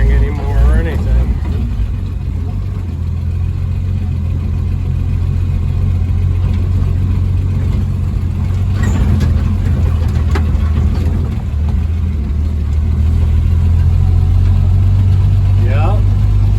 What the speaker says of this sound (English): Dump truck's running great.